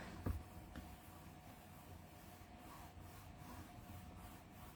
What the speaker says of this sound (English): we'll stamp with this. And we'll just give it a good rub